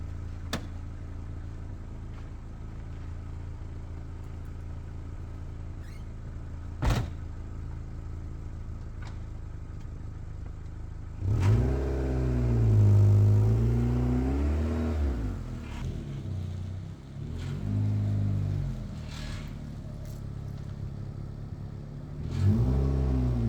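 A Honda CRX, once abandoned and now repaired, idles quietly before pulling away on a test drive, its engine then revving up and down through several gears in loud, close, wavering bursts.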